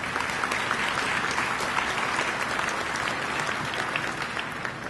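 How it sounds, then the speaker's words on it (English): Sustained applause from an audience at a Caltrans workers memorial, greeting a vocal quintet after its performance; dense, steady clapping fills the whole stretch at an even level with no talk over it. "Would you please give them applause?"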